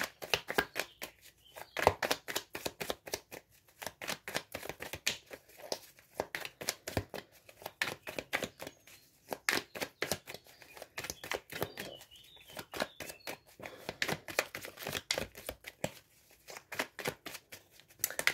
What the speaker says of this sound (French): Nous avons beaucoup de cartes qui sont tombées